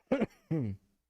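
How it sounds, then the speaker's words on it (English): Two rough coughs come in quick succession, close and fairly loud, with a short pause between them and silence afterward. "That was a cough again."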